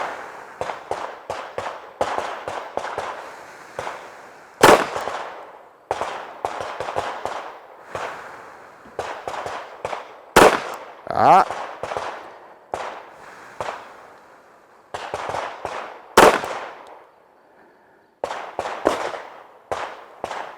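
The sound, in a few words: pistol gunshots in 3 to 5 round strings, zeroing red dot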